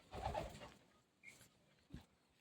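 A male racer pigeon held in the hand lets out soft, close coos: a louder burst at the start, then two brief quieter calls with pauses between, in an otherwise quiet setting.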